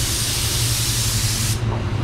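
A spray gun lays a fast control coat of blue waterbase paint at 18.5 to 19 PSI, a loud continuous hiss that cuts off abruptly near the end, leaving a low background hum.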